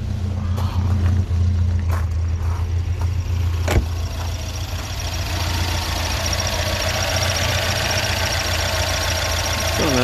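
A Chevrolet Chevette's new engine idles steadily and close by, a low continuous rumble with a brief click early on and no voices.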